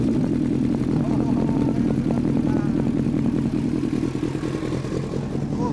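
A Yamaha R1 motorcycle fitted with a K-Factory exhaust runs close by with a loud, steady engine drone that stays level and eases slightly near the end.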